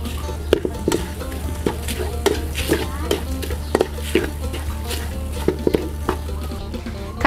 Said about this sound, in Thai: คั่วเครื่องให้หอมเลยนะคะ